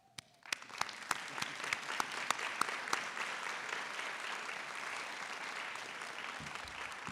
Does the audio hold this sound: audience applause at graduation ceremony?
yes